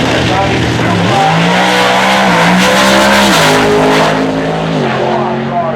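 Heads-up Super Ride drag cars at the 2006 IHRA Pro Am, Maryland International Raceway, roar loudly and continuously as engines climb in pitch through launches, with an announcer talking over the public address.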